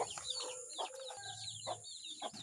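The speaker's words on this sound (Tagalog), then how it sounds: "Yan po, maririnig nyo po ang ingay ng ating mga sisiw." Hungry chicks cheep in shrill, rapid bursts alongside clucking hens in a farmyard coop, the sound close and busy, with steady chirping layered over low clucks and no talking.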